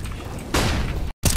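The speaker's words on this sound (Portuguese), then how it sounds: "Throwing flashbang." A flashbang grenade goes off in Counter-Strike: Global Offensive as one sudden loud burst that hisses briefly, cuts out, then lingers as a harsh ringing.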